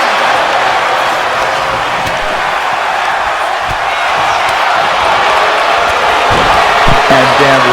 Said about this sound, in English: The crowd is on their feet going wild.